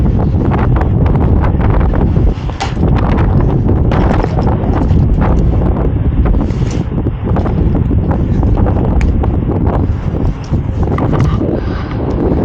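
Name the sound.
wind blowing into microphone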